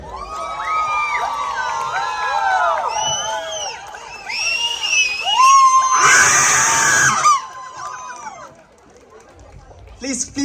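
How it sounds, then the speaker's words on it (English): Women's throwball team and crowd at a league closing ceremony, a burst of shrill screams and cheering with a loud roaring peak midway, mixed with excited shouting voices before fading. "Roaring Queens, please make an entry with a roar."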